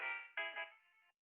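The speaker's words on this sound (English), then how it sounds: "Oh, and he's ringing me again now." A mobile phone rings with an incoming call, a clear electronic melodic tone in a few short pulses that cut off abruptly, fairly faint and with no talk over it.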